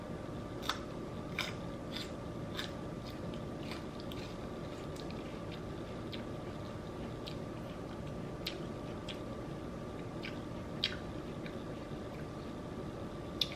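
Someone bites into and chews white asparagus up close, giving soft irregular crunches and clicks over a low, steady room hum, with no talking.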